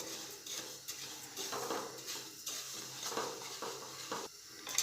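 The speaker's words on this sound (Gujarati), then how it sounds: "તો જીરાને આપણે શેકી લઈશું ગેસ મીડિયમ રાખીશું એટલે જીરું બળી ના જાય" Cumin seeds dry-roasting in a pan on a gas stove over medium flame, with repeated scraping and clinks of a spatula against the metal pan and a soft rustle of seeds, fairly quiet and continuous.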